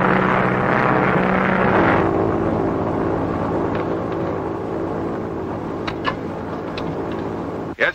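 Engine of a pursuit plane being rolled out, a loud steady propeller-aircraft drone that fills the whole clip and eases slightly after the first couple of seconds, with a few faint clicks near the end.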